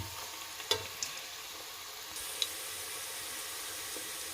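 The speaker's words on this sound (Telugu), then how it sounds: "ఈ ఉల్లిగడ్డ బాగా ఎర్రగా వేయించుకుందామండి" Onions frying in oil for bagara rice, a faint, steady sizzle throughout with a few light stirring clicks and taps.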